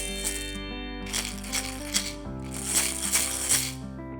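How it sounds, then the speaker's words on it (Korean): Homemade maracas filled with mung beans and kidney beans are shaken in two short bursts of gritty rattling over soft background music, with no one speaking. "녹두로 만든 마라카스에서는 어떤 소리가 날까요? 또 강낭콩으로 만든 마라카스에서는 어떤 소리가 날까요?"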